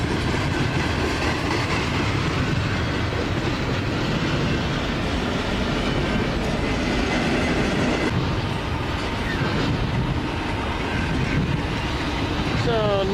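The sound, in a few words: train passing on the Montana Rail Link line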